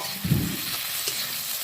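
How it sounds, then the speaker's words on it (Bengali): Onions lightly frying in a pan for a country chicken curry sizzle steadily, with a spatula stirring and scraping through them early on, close and clear with no talk. "তো পেঁয়াজগুলো হালকা করে ভেজে নেব।"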